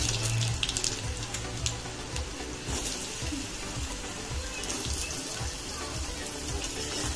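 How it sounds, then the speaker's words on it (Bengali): Potatoes drop into hot oil in a pan already used to fry peanuts and whole cumin for sabudana khichdi, giving a steady, dense sizzle that holds throughout, with a low hum underneath at the start. "এবার আলুটা দিয়ে দেবো।"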